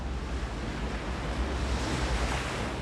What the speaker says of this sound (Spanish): Solo el océano.